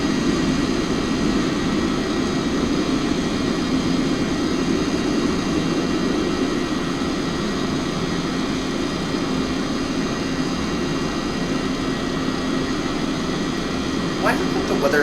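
A jet airliner climbs after takeoff with its flaps retracting. Heard from inside, a loud, steady, continuous engine roar and airflow drone holds evenly throughout.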